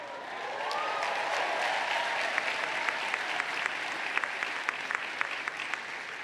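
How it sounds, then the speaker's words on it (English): A large graduation commencement crowd at Babson College breaks into sustained applause, a dense steady wash of clapping with sharper individual claps standing out, heard from a moderate distance with no talk. "We'd like to give you a round of applause to honor and recognize you."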